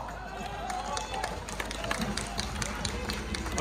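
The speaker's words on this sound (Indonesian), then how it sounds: "Kuatlah sikit tepuk" Convention audience at the 2022 Harapan convention opening clapping together, a busy crackle of many hands with irregular sharp claps, steady and fairly loud, with voices speaking over it.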